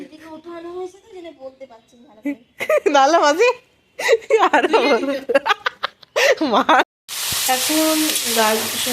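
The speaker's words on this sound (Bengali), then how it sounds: "আমি এখানে গাজর ক্যাপসিকাম মটরশুঁটি এগুলো ভাজছি" Carrots, capsicum and peas fry for fried rice, building to a loud, steady sizzle near the end after a stretch of voices talking and laughing close by.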